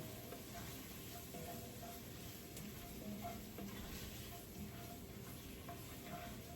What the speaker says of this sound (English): you're just going to stir that up and make sure that it coats all of the onions and garlic